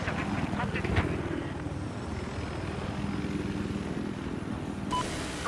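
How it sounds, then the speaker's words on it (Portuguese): Enemy helicopter in a video game, a Little Bird type, with a continuous rotor drone and engine rumble that holds steady throughout, mid-distance, under game noise and brief clicks. "Estou vendo um helicóptero inimigo."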